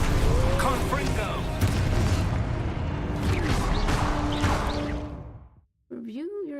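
Spell explosions in Hogwarts Legacy, several dull booms and whooshing bursts over a continuous rumbling bed, cutting off briefly before a voice is heard at the end.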